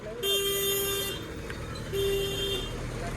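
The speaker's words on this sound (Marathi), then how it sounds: "तर गाईज इथून आलेला आहे मोठा ट्रक, हे पाहू शकता." A big truck arriving on a rural road, sounding two long horn toots separated by a short pause over a low engine rumble, close and fairly loud.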